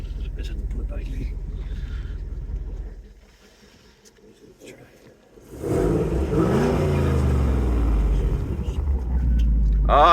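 A 2021 Roush Stage 3 Mustang rated at 750 hp starts with a low idle rumble, drops quieter, then revs up into a loud, deep, sustained engine roar in sport mode.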